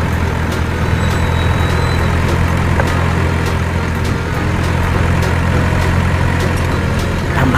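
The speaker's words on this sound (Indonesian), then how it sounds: "Tampaknya sudah cukup jauh mobil off-road itu berjalan." An off-road car drives along a rough track, its engine a steady, loud low rumble with continuous road noise and a few faint clicks and rattles over the top.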